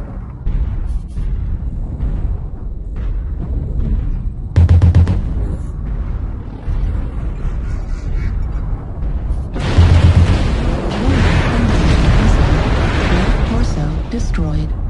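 Booming weapon explosions in a mech combat video game, two heavy blasts over continuous rumbling battle noise, with a voice talking through it.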